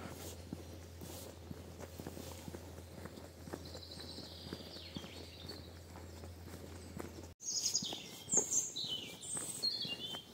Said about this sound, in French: Qu'est-ce que c'est agréable ce bruit d'oiseaux.